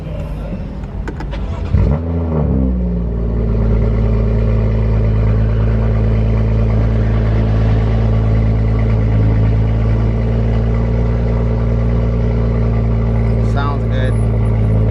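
A car engine cranks and catches after a couple of seconds, then settles into a loud, steady, droning idle for warming up, heard close by with a few faint clicks near the end.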